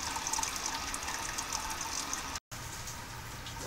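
Water being poured into a Brewzilla brewing system, a continuous close rushing splash with a brief break near the end, no talking.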